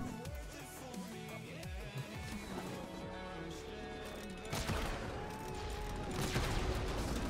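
A primary weapon fires in a Warframe fight, with rapid shots and impacts thumping over layered game effects and background music, the bursts growing denser and louder toward the end.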